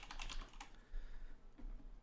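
Typing on a computer keyboard, rapid clustered keystrokes close by, with brief pauses between bursts; no talking.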